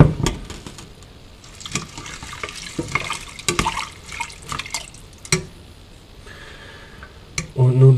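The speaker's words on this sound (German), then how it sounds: "Wasser drauf." Water from a tap goes into a cooking pot over ingredients for a stew, with splashing, dripping bursts and clattering handling noises nearby, ending in a louder steady pour.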